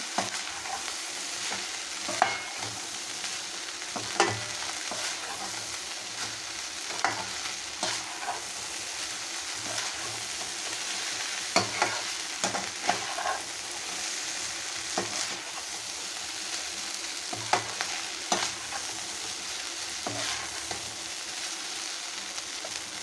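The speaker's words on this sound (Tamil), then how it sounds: "நல்லா அதில் புகை வரணுங்க அந்த மாதிரி ஃப்ரை ஆகணும் இதில்" Beef fried rice frying hard in a hot pan, a continuous loud sizzle with regular scraping and tossing strokes of the ladle recurring every second or two throughout, close by and with no talk.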